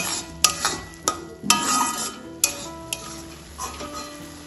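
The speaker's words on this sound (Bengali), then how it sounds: "লবণটাও ভালোভাবে মিশিয়ে নেব" A spoon scrapes and stirs through a thick cooking carrot laddu mixture as salt is worked in, giving a run of sharp, close clicks against the pan over a soft, steady sizzle.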